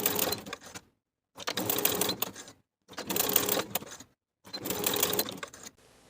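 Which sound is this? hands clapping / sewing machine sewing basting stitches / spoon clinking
sewing machine sewing basting stitches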